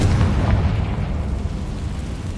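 Loud, low booming blast of the Confringo spell in Hogwarts Legacy, a heavy explosive rumble right at the start that slowly decays over a couple of seconds, with no talking.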